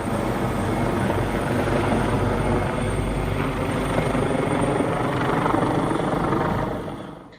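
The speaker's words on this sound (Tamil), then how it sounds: "ஹெலிகாப்டர் மூலமாக ரசாயன பொடியையும் தண்ணீரையும் பீச்சியடித்து வருகின்றனர்." A firefighting helicopter flies over the Los Angeles wildfires, its rotor beating in a steady dense chop with engine roar, loud and continuous, fading slightly at the very end.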